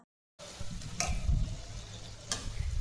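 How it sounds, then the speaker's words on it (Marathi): Shankarpali, diamond-shaped fried dough snacks, bubble and sizzle steadily in hot oil, with occasional sharp crackles and soft stirring noises over a continuous frying hiss. "आणि मंदाचे वर छान छानपैकी शंकरपाळे तळत आहे हे बघा"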